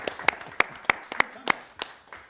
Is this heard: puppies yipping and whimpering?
no